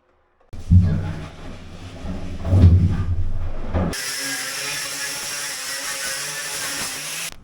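A power sander runs on a boat during hull touch-up work, first as a rough, uneven grinding with strong low bursts, then as a steady, brighter whirring hiss that carries on to the end.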